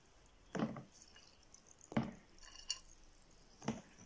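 Seven sugar cubes are dropped one by one into water, giving three faint, separate plops and splashes with small clinks of a container between them in a quiet room.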